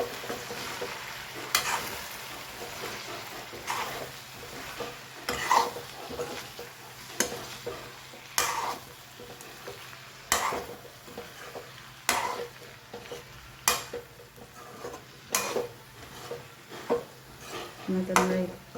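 Vegetables with red chili powder, coriander-cumin powder and salt being stirred in a pan, giving soft scraping strokes and sharp periodic clinks of a spoon against metal over a low steady sizzle, with a faint hum underneath.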